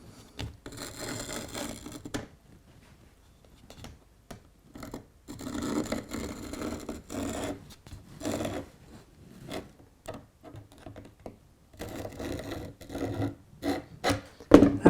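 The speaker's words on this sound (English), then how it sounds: "And then with the jigsaw, I can cut out this shape." A jigsaw cuts a shape out of timber for a model railway station, giving short rasping bursts that start and stop with brief pauses between cuts, close and moderately loud.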